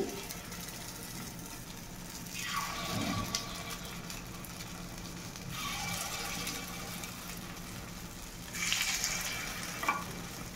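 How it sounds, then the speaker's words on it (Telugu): Guntha ponganalu batter fries in hot oil in a paniyaram pan, a soft, continuous crackling sizzle with gentle swells and a couple of faint utensil clinks near the end. "ఇప్పుడు ఆయిల్ వేడెక్కిందండి, అంటే కొంచెం వెల్తిగా వేస్తే పొంగుతుందండి, అందుకని కొంచెం వెల్తిగా వేస్తున్నానండి."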